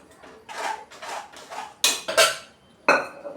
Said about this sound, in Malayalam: നല്ലവണ്ണം ഒന്ന് ഇളക്കി കൊടുക്കാം.